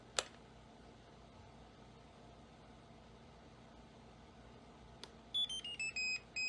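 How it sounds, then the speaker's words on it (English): A short series of high electronic beeps from an RC plane transmitter sounds near the end, following a sharp click and quiet background hiss. "it should make a beep to confirm it"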